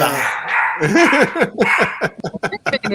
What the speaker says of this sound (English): We just happen to have dogs in the break room right now.